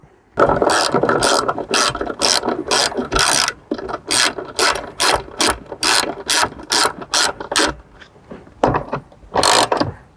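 A hand ratchet snugs up bolts on a Smooth Moves box system, its pawl clicking in rapid, loud bursts of strokes separated by short pauses, close up and with no talking.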